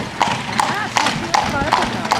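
Horses at an agricultural school's stables give a steady, regular clip-clop of hooves at close range, with whinny-like calls mixed in and someone talking over them.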